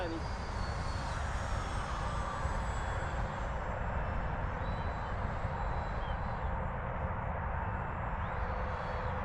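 An FMS Super Scorpion 90mm electric ducted fan model jet hums steadily in the distance as it flies approaches outdoors, a soft continuous whine under a constant wash of wind noise.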